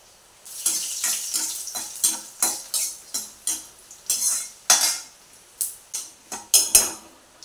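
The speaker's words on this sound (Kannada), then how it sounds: "ನಾನಿಲ್ಲಿ ಕೆಂಪು ಮೆಣಸು ಹಾಕ್ತಾ ಇದ್ದೇನೆ ಪಲ್ಯಕ್ಕೆ" Red chillies and mustard seeds fry in a pan for a vegetable stir-fry, heard as a series of about a dozen sharp, crackling bursts in uneven rhythm, close and fairly quiet, with no talking.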